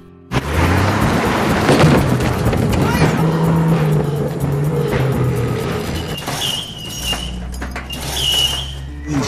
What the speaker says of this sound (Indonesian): Kemudian ia mencoba kabur menggunakan mobil box milik Rek